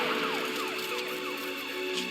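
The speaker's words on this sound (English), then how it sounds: "Inspector Bringer's car has arrived." Video game police inspector's car arriving with a continuous wailing siren, its pitch sweeping repeatedly up and down, loud and close throughout over a faint engine hum.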